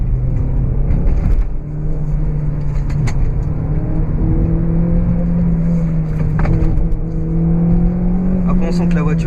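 A loud Renault Clio 3 RS 197 engine hums close by at steady revs, rising slightly in pitch, with brief knocks and clatter over the drone.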